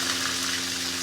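Onion paste frying in hot oil with bay leaves in a pan over high gas, a steady dense sizzle holding evenly loud and close throughout the short stretch, with no talking.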